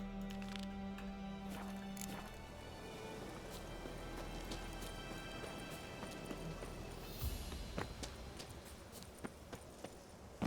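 Roach, Geralt's horse in The Witcher 3, gallops with a steady run of hoofbeats under low rumbling game ambience and background music, with no talking.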